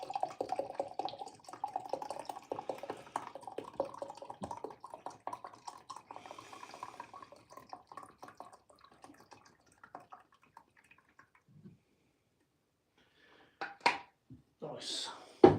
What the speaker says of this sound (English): let's pour a cup of tea